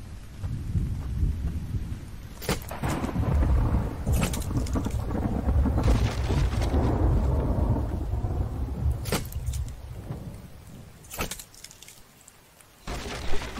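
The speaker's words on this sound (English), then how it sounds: "Now it's raining." Steady rain hisses throughout in the video game The Infected while low thunder rumbles, and a few sharp crackles and cracks stand out near and loud.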